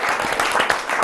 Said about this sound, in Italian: Un applauso di nuovo